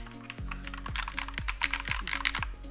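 Keys clatter in a quick, irregular burst on a compact keyboard fitted with bumpy tactile Panda switches, each press a crisp, close click with no voice over it.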